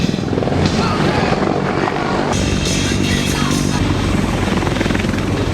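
Helicopter hovering close during a military landing demonstration at the Blue Angels airshow at Kaneohe Bay, Hawaii, a loud continuous rotor thump and turbine whine throughout.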